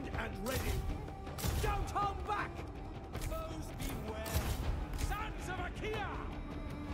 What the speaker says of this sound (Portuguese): tô tomando tiro aqui